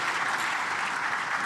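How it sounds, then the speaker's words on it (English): Audience applause fills a closing ceremony hall, a dense, steady wash of clapping from many hands that holds evenly from start to finish. "Give him a round of applause."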